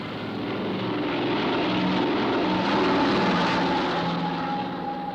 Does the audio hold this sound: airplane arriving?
yes